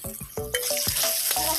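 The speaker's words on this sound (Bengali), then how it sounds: "আলুগুলো একটু ভাজা ভাজা হলে বেগুনগুলো দিব," Potatoes frying in a pan, with a brief burst of sizzling crackle and several sharp stirring knocks close by.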